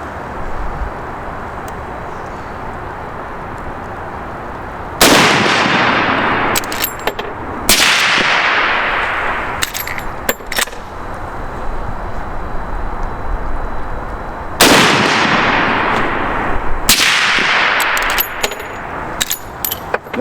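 A 30-30 rifle fires custom full-power loads, some shots unsuppressed and some suppressed: four loud, sharp reports spaced a few seconds apart outdoors, each with a long decaying echo and small clicks from handling between them.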